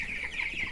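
A flock of broiler chickens clucks and chirps in a steady, close chorus, a brief burst of overlapping high calls with no talk.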